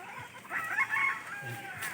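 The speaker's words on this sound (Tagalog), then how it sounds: "Yan ang inahin natin." One drawn-out, throaty hen call rises briefly, faint and a little distant, against quiet outdoor background noise.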